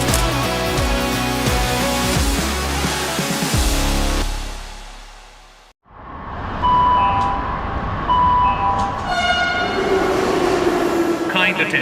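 A metro train pulls into a platform with a loud, heavy rumble and clatter that briefly drops away, then returns with screeching wheels, whining tones and brief horn-like sounds as it slows.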